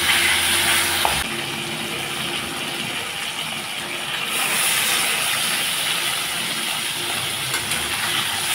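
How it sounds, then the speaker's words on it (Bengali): Fish seasoned with turmeric and salt frying in mustard oil in a kadai, a dense continuous close-up sizzle with a brief clunk near the start. "এক এক করে এখন মাছগুলো ভেজে নিব।"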